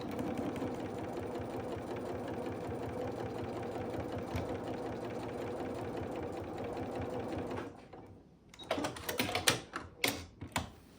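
Sewing machine stitching a baby quilt seam, a loud continuous mechanical whir for several seconds that stops, followed by short bursts of clicking and handling.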